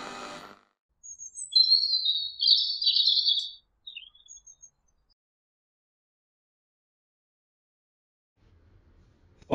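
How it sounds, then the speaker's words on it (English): Birds sing outdoors on a cold mid-April day, a clear run of bright chirps and trills over about three seconds, followed by a few short tweets and then near silence. "The birds are singing, the grass is green"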